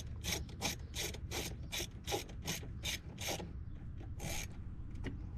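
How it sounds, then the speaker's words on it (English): A ratchet clicks in quick repeated strokes, close and steady, loosening a hose clamp at the throttle body on the air intake of a 2023 Hellcat, with no talk. "you're going to have to undo this hose clamp going to the throttle body"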